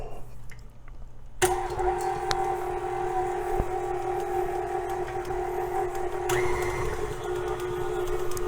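An electric mixer switches on and churns cheese and Bisquick, giving a steady mechanical whine with a humming tone that runs continuously after a quiet start, close by with no speech.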